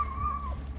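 A puppy gives a single thin, high whimper that wavers and trails off, close and fairly clear over a low background rumble.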